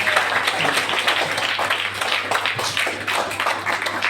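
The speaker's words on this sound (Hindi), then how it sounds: "एक बार ताली बजा दीजिए इनके लिए।" An audience applauds during a school-trip planet show, dense continuous clapping from many hands that stays level and close for the whole stretch.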